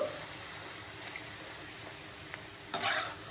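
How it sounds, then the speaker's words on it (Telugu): Wheat-flour puri dropped into heated oil, a soft steady sizzle that flares into a louder burst of frying near the end. "ఆయిల్ హీట్ అయింది కదా ఆయిల్లో పూరి వేసి కాల్ చేద్దాము"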